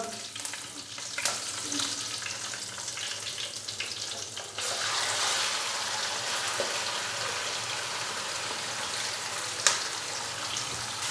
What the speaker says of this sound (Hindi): हल्का सा हम इनको फ्राई करेंगे और साथ ही मैं इसके अंदर चिकन डाल दूंगा